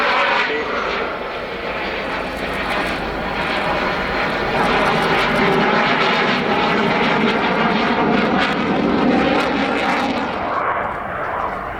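A Swiss Air Force F-18 jet flies a solo display at the RAF Cosford airshow, a loud, steady engine roar that holds for over ten seconds before easing slightly at the end.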